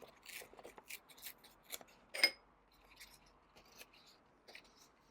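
Paper being torn by hand for a junk journal page, a series of short, crisp ripping bursts spaced irregularly, one sharper and louder rip near the middle, close by with no talking.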